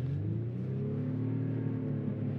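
A 2024 Honda Pilot Trailsport pulling away on an icy, snowy mountain road, its engine humming steadily and rising slightly in pitch as it moves off, close and continuous with no talk.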